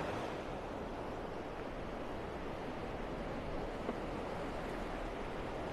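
Steady broadband roar of ocean surf washing onto Vanderbilt Beach, North Naples, Florida, continuous and fairly distant, with a little wind noise and no voices.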